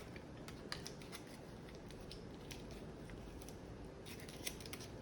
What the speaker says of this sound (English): fold the tinfoil